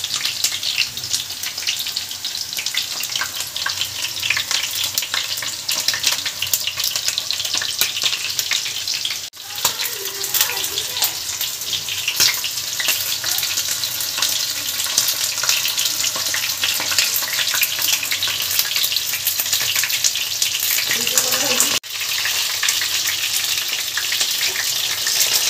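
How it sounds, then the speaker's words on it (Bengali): Skewered chicken kathi kebabs fry in a pan with a loud, continuous, crackling sizzle that holds steady throughout, with no voices over it. "ভাজা হচ্ছে আস্তে আস্তে।"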